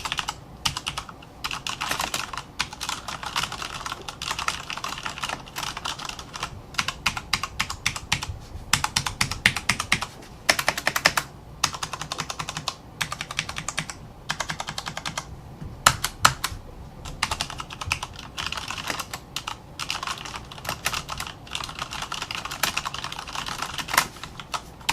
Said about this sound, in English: In case you guys want to hear how this K70 sounds with the brown switches